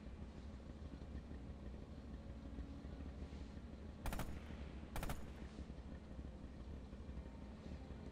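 Two short bursts of gunfire crack out in the combat video game Rising Storm, standing above a constant low rumble of engine and battlefield noise.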